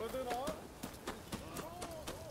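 A horse's hooves clip-clop in a quick, steady galloping rhythm in the video game Rise of the Ronin, with a tonal game sound effect running alongside the footfalls.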